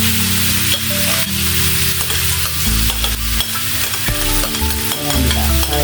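Shredded vegetables with carrots for spring rolls are stir-fried in a large wok. The sizzle is loud and continuous, broken by scraping and tossing strokes at an uneven pace.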